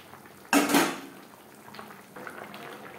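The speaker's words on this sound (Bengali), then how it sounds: "গ্রেভির সাথে মাছ বেশ ভালো করে মিক্সড করে দেব।" Fish being stirred into gravy in a cooking pot: a loud scraping, clattering burst of spoon against metal near the start, then quieter soft stirring and bubbling, with no voices.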